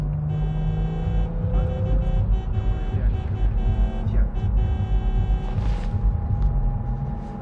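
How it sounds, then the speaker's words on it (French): A car drives in the video game Cyberpunk, its engine running as a steady low rumble throughout, with humming electronic music tones and occasional louder rumbles layered over it, and no talk. "Arrête la voiture."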